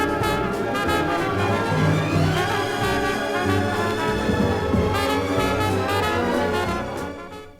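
Dense music from a 1963 stereo demonstration record where an orchestral passage and a jazz band play over each other at once, a busy, steady wash of overlapping instruments with no pauses.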